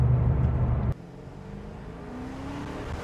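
A Dodge Challenger V8 accelerates under a bridge: a loud rumbling burst cuts off abruptly, followed by a quieter rising engine whine as the car pulls away.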